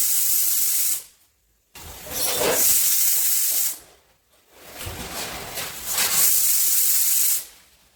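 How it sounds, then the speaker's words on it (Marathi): A pressure cooker on the stove cooking fenugreek and onion bhaji lets off loud hissing whistles of steam in three long bursts, separated by brief near-silent gaps, close and piercing, with no voices. "आता मी शिट्ट्या करून घेते"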